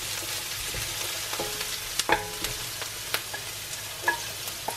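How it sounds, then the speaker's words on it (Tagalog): Onions fry for beef tongue adobo with a steady, quiet sizzle, broken by a few sharp clicks and scrapes as they are stirred in the pan, with no talking. "Kailangan medyo mag-brown konti yung ano, yung onion, kasi para lumasa."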